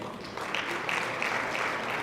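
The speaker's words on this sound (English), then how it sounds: "Please give them a big round of applause for making this night so special." Applause from an audience at a chamber of commerce annual awards ceremony, a dense, steady patter of many hands clapping throughout with no one speaking.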